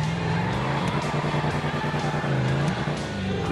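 Car driving in Grand Theft Auto 5, a sustained engine drone with shifting pitch as it revs and eases, loud and continuous, with game sounds layered over it.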